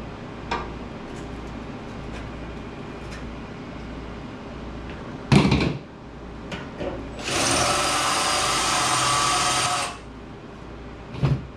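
A power drill whirs for a couple of seconds, then a longer, louder drilling burst runs about three seconds, with a few knocks and clicks between, working on a rusty 1936 Ford Roadster.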